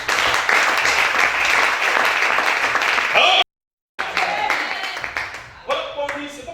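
Sustained applause from a church congregation during a sermon, dense and loud, briefly cut off, then resuming more raggedly with scattered claps and voices mixed in.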